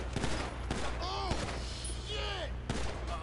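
Gunfire in GTA V Online: several sharp, loud shots spaced irregularly across a few seconds, with scattered synthetic game tones and a steady low background hum.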